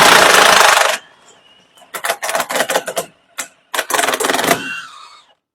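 A strut-to-spindle bolt is removed on a 2020 Subaru Ascent with an impact wrench: a loud one-second blast, then several rapid rattling bursts of hammering at close range, separated by short pauses.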